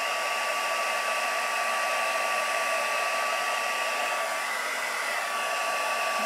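A heat tool melting embossing powder on a card, its steady loud blowing whir running unbroken throughout, close to the microphone with no talking.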